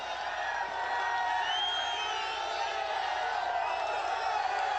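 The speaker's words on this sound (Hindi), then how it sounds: "जोरदार तालियों के साथ जीवन सिंह जी का अभिनंदन किया जाए" A large crowd at a Karni Sena rally in Harda roars and cheers steadily in welcome of national president Jeevan Singh Sherpur, a dense, sustained wash of voices and clapping with no break.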